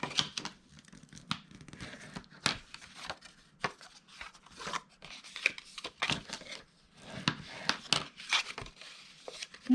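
Cardstock folded along score lines and burnished crisp for small Valentine's treat boxes, giving repeated close, sharp crinkling and scraping strokes in an uneven rhythm with brief quiet gaps between them.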